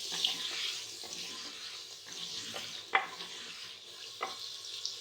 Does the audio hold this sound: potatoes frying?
yes